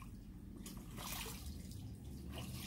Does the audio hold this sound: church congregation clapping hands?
no